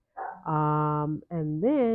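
Small dog barking close by, a few sharp yapping barks and a rising whine-like yip in quick succession, with a brief spoken phrase at the start.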